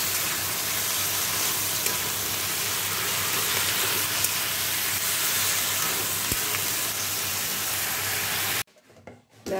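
Fish curry with potatoes, onions, salt, turmeric and cumin simmers in a pan after water is added, giving a continuous dense sizzling and bubbling hiss that cuts off abruptly near the end into quiet handling noises.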